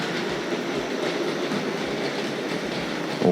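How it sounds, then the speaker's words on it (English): Tri-ang model railway goods wagons, pulled by an R.153 saddle tank locomotive, rattle steadily along the rails with a close, continuous clickety-clack and no voices. "Makes a lovely little sort of set of rattles on the rails,"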